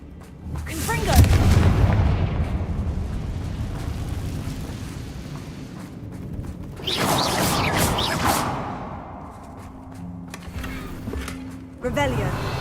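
A Confringo blast spell cast in the game Hogwarts Legacy, heard as loud booming fiery bursts and whooshes in two heavy waves, with a voice and game music running alongside.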